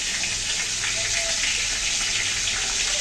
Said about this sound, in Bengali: মশলার ভিতরে আমি একটু জল দিয়ে দেবো